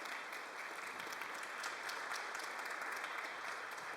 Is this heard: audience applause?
yes